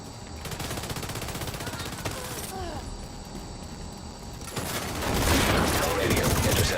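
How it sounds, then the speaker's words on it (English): Rapid bursts of gunfire crackle at a moderate distance in the video game The Division 2, growing denser and louder toward the end, with some voices faintly mixed in. "I hear gunfire."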